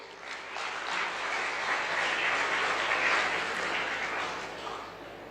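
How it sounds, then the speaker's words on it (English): Sustained audience applause at a Google Cloud community day, a dense, even wash of clapping that swells and then tapers off toward the end. "Can we get a huge round of applause for him?"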